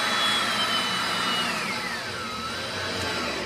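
A power driver sets a small Torx head finish screw into a shelf bracket for a humidor. The motor whines close and continuously, its pitch sliding downward as the screw seats.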